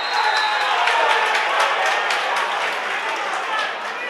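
A large crowd at a hurling intermediate semi-final applauds and cheers in a continuous dense roar, steady and fairly loud, with a commentator's voice running over it.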